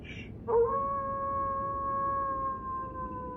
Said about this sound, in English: the savage howl of a wild animal tore its way through the icy wind